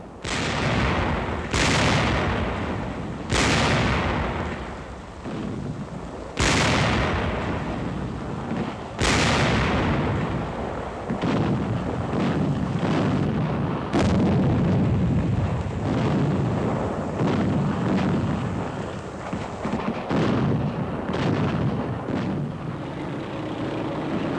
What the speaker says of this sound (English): Third Army tanks blast the Nazis from towns bordering on Nancy prior to the fall of that important French city on 15th September.